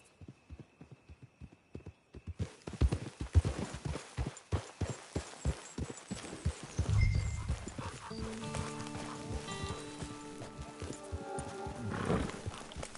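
Steady clip-clop of a horse's hooves in Red Dead Redemption 2, a brisk even rhythm close by, joined midway by a low rumble and a soft musical drone underneath.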